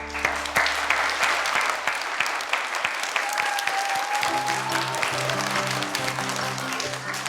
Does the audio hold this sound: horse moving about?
no